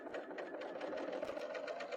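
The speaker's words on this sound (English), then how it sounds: "I'm going to show you how you can so easily put a neckband on with a serger on a knit" A serger running a 4-thread overlock stitch to attach a neckband onto knit fabric, a steady fast mechanical whir with rapid rhythmic needle chatter throughout, close and continuous.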